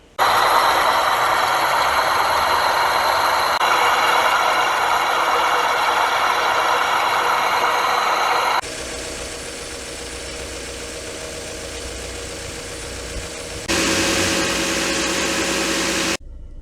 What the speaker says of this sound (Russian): сейчас обороты стабилизируются, машина прогреется до конца